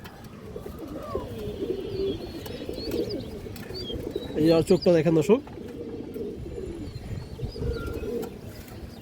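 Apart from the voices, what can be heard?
Budapest high flyer female pigeon cooing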